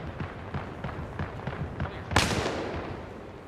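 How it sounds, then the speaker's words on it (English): Video game gunfire crackles as a run of sharp, fairly quiet pops, then a louder burst near the end, with no talking. "I hear these gunshots all around."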